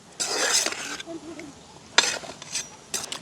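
Meat coated with salt and turmeric gets stirred in a pot, a few short bursts of scraping and rustling close by, fairly faint, separated by quiet gaps, with no talk.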